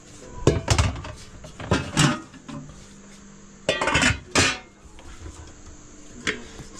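A metal sufuria cooking pot and a basin are handled in a kitchen: several loud clanks and scraping knocks in irregular bursts, separated by quieter pauses.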